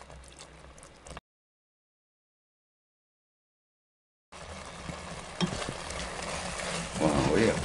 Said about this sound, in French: toujours très petit feu, hein, petit mijotage, à découvert, on remue fréquemment